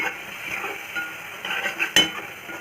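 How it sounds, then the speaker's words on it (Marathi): Chilli powder and salt stirred into cooked tomatoes for katwal bhaji, a spoon scraping and clinking against the pan over a soft sizzle, with a sharper knock near the end. "तिखट मीठ घालून छान ढवळून घेऊन"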